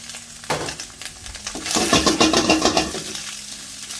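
Vegetables, carrot, capsicum and cabbage, stirred together with egg in a hot pan for seafood Mongolian rice, with a rising sizzle of frying and quick rhythmic scraping strokes, close and fairly loud.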